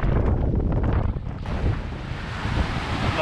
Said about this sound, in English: We've got about 18 knots of wind.